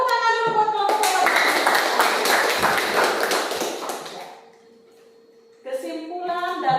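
Classroom of students clapping for a student group after a storytelling performance, a dense burst of hand claps for about four seconds that fades out, with children's voices before and after.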